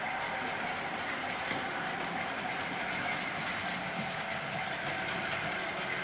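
Model Class 47 locomotives run slowly around a layout track, giving a steady low rolling rumble with a faint continuous motor whine and no distinct clicks standing out.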